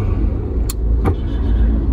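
Cars pass on a road in steady traffic, a continuous loud broadband rumble with two brief sharp clicks or swishes near the start, no voices.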